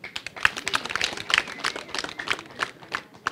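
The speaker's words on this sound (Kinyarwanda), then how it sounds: "namwe mwihe amashyi" An audience applauds motorcycle taxi drivers at a Rwamagana gathering, a brisk clatter of many hands clapping at moderate volume, steady for the whole stretch with no clear voices over it.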